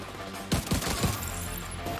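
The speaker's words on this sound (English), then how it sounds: "I shot him like 20 times in the stomach" Repeated gunshots from a weapon with heavy recoil in the video game The Division 2, three loud bursting shots in quick succession followed by a ringing, noisy tail.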